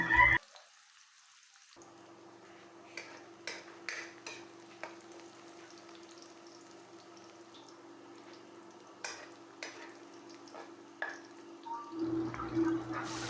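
Sliced onion and garlic sautéing in a pan for squid adobo, a steady low sizzle with scattered stirring clinks and scrapes, fairly quiet and close, after a brief louder opening burst and silence.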